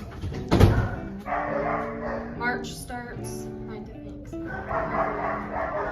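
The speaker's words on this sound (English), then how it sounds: "This is the old dog kennel" Dogs bark in an old kennel, several loud nearby barks and yips scattered across the clip while a person talks over them.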